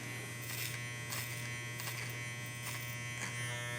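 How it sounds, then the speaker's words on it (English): Electric hair clippers buzz steadily while cutting clipper over comb on a mannequin's head, a close, continuous motor drone with faint rhythmic strokes and no talking. "we're going to continue working clipper over comb"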